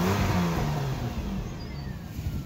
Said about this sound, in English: Here's the sound of the engine.